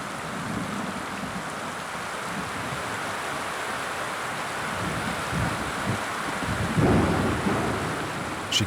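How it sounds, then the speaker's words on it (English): A heavy isolated thunderstorm over the Amazon rainforest, where a harpy eagle sits on her nest, with constant loud rain and rolling thunder that swells into a deeper rumble near the end. "This is an isolated storm, but it's a sign the rainy season isn't far away."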